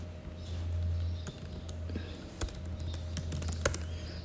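A computer keyboard is tapped out in short, sparse keystrokes over a low steady hum, making quiet, close clicks at an uneven pace while a command is typed.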